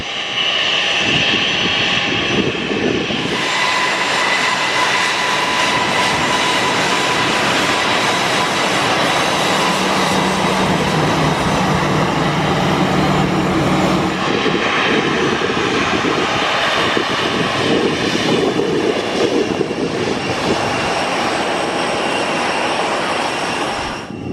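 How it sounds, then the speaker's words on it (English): Dassault Falcon business jet close by at an airport on a summer evening, a loud sustained engine roar and whine that swells and holds for over twenty seconds, no voices. "Here we go then, up close with the Dassault Falcon"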